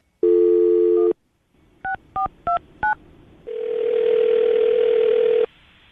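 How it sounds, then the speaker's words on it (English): Telephone number being dialed: a steady dial tone, then four short separate dialing beeps, followed by a long steady ringback-like tone, close and clear with no talking. "I'm gonna dial this phone number right now"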